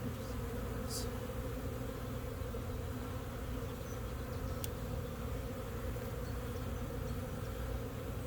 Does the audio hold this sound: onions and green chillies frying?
no